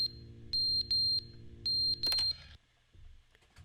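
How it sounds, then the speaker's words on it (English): A smoke detector alarm in The Stanley Parable game gives loud, sharp electronic beeps in short bursts, then a clattering fall and quieter rustling afterward. "the smoke detector"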